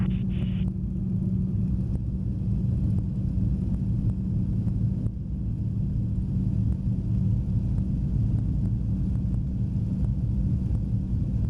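Spitfire aircraft engine at Duxford with power coming up on final approach, flaps down: a steady, loud low rumble and drone running continuously throughout, with no voices.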